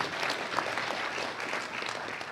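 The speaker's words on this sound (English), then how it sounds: "Could we have a round of applause for all of them?" Town hall meeting audience applauding, a dense, even wash of many hands clapping at moderate level, sustained without a break.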